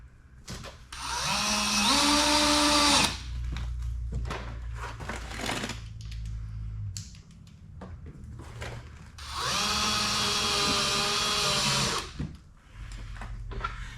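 A power drill drives screws into a car's SpeedForm chin spoiler from underneath, two long whining bursts that rise in pitch as the motor spins up, separated by quieter rattling handling noises.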